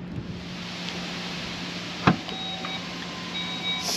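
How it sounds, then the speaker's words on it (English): Power liftgate on a 2024 Volkswagen Tiguan SE, a soft steady motor whir with a sharp latch click partway through, close and fairly quiet, no talking. "So, popping the power liftgate in the Tiguan, it is powered on the SE and above trims"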